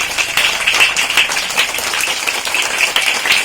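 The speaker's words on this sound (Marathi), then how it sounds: "टाळ्या कंटिन्यू ठेवायच्या" Students applauding at a teachers' felicitation ceremony, a sustained, even wash of many hands clapping together, steady and fairly loud.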